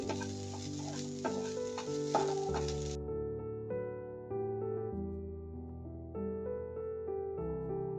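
A cup of grated coconut roasts in a little oil in a pan, a soft stirring sizzle that is clearest at first and then runs on under steady melodic background music.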